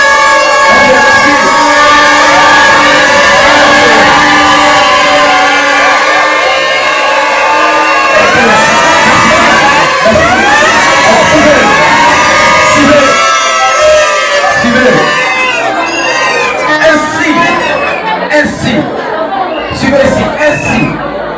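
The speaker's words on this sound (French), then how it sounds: "applaudissez là." A crowd at a nursery school graduation ceremony cheering loudly for the school director, a sustained wash of many raised voices, shouts and excited calls with chatter mixed in.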